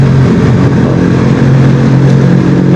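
Engine drone from a KTM RC390 motorcycle held at about 5,000 RPM, a steady loud hum with a strong low tone, heard close from the rider's position with some wind noise and no talk.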